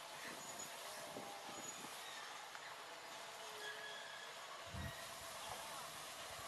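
A small lorry locomotive runs along an old, disused, overgrown rail line and pushes through grass. It makes a steady, loud rumble and clatter with a thud near the end and a continuous noisy wash throughout.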